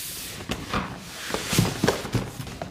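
Scattered cardboard scrapes, light knocks and rustles come close and soft as a PlayStation 5 box is opened and its contents handled.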